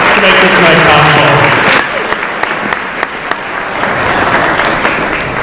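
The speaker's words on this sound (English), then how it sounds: "Please give them another round of applause." An audience at an evening charity event applauds, a loud dense wave of clapping that thins into scattered claps, with a voice speaking over the start.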